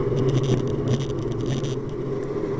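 Racing car engine in Need for Speed Shift 2 Unleashed held at full throttle, a loud steady drone with a strong low rumble and whirring upper tones, lasting unbroken from start to finish.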